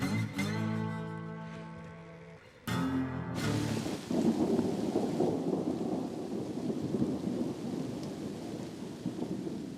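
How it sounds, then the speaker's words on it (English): Heavy thunderstorm over pine woodland, with thunder rumbling early on, then a sudden loud downpour of steady pouring rain hissing and drumming close by for the rest. "It's absolutely pouring out there. I'm trying to hide under a big pine tree as a thunderstorm goes past."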